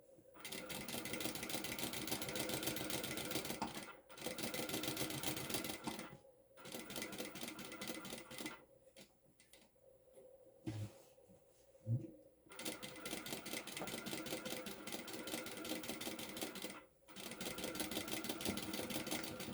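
A sewing machine runs in long steady bursts while stitching a bag, with short pauses between runs and a brief quieter stretch of handling clicks midway, close and loud.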